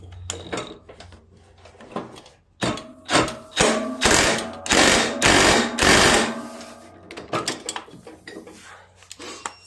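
A wrench works the nut on a Yard-Man riding lawn mower pulley, giving a run of close metallic ratcheting clicks and clanks in uneven bursts, louder in the middle, with no talking.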